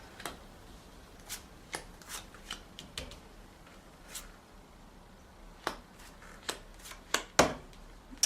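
Deviant Moon tarot cards are handled and shuffled. Soft, close card riffles and snaps come in scattered bursts with no talk, growing a little louder near the end.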